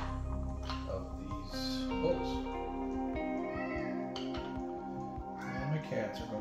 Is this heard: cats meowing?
yes